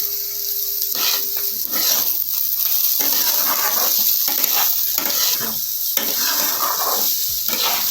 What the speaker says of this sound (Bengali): ভালো করে নাড়াচাড়া একটু করে নেব